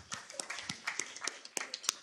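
Scattered, sparse clapping from a small school board meeting audience welcoming first-year students, individual claps spaced irregularly and fairly quiet, with no voices over it.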